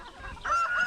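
A brief nasal cluck from a nearby chicken rises into a short squawk, heard alone against faint background noise.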